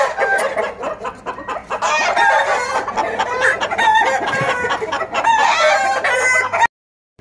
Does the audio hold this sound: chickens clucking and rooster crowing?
yes